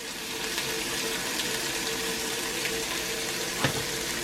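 Garlic sizzles in a cast iron pan with seasoning and salt, a soft, continuous frying hiss at low level with faint stirring scrapes and one small clink near the end.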